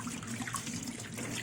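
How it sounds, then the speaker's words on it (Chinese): Fresh eggs are washed under a running kitchen tap, a steady close splashing and trickling of water with no talking. "鸡蛋要好好的洗一洗。"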